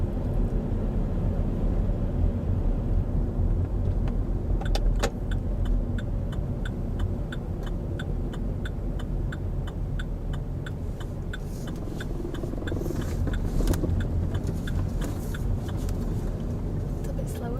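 A learner's car engine runs steadily while driving at moderate speed on a road, a continuous low hum and road rumble with faint ticking, heard under ongoing conversation between instructor and learner.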